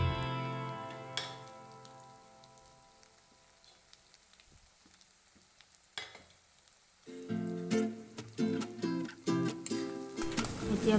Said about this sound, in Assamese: এতিয়া বনাই থোৱা পেষ্টখিনি আলুখিনিৰ লগতে একেলগে ভাজি লওঁ।